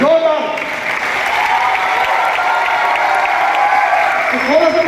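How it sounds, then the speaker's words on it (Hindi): Loud, sustained applause from a large audience at a training and recognition program in Kolkata, a continuous wash of clapping with a voice carrying over it. "और एक बार जोरदार तालियां अपने सीनियरों के लिए"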